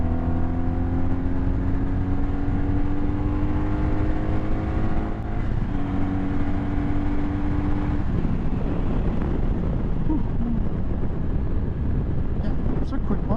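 A 2009 BMW R1200RT motorcycle accelerates hard at full throttle, its engine note climbing in pitch through the gears under heavy wind rush, close and loud throughout.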